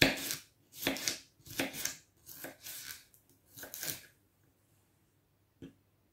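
A knife slices lengthways through a pepper on a chopping board in several close, crisp strokes spaced about half a second apart, followed by a pause and one last faint cut.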